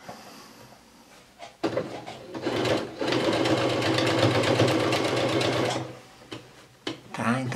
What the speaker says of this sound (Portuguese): eu vou costurar um pedacinho pra vocês verem